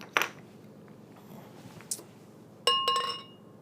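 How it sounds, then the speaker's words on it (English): A bottle of Weihenstephaner Hefeweissbier, a traditional German wheat beer, opened and poured into a glass: two bright glassy clinks, one near the start and a ringing one later, over quiet room tone with no talking. "Let's go ahead and get it cracked open into the glass and see what it tastes like."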